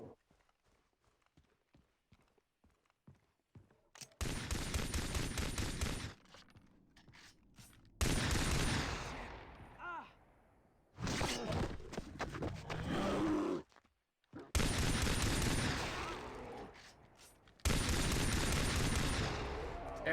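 Bursts of pistol gunfire in the video game Far Cry 3 during a bear hunt come in loud separate blocks of rapid shots, with quieter gaps of footsteps and mechanical clicks between them.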